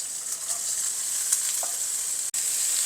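Finely chopped onion fries in oil with green chili, a soft, even sizzle with a few faint stirring touches and a brief cut near the end.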